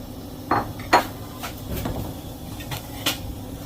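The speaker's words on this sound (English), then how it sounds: "We will just stir it, let that cook." A spoon knocks and scrapes against a metal pot of Indian lentils, a few distinct clanks and clinks spread over a few seconds above a low steady background, close by and without speech.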